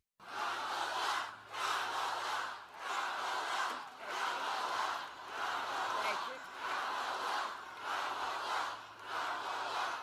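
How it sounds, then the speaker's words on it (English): A large crowd at a political rally chants a two-beat name in a regular loud rhythm, about ten cycles, roaring and echoing. "you're going to hear the crowd chanting, Kamala, Kamala"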